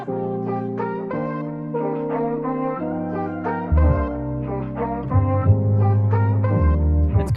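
Keyboard chords played at a steady pace, with sustained harmonic tones and a deeper bass entering partway through, clear and fairly loud with no voices.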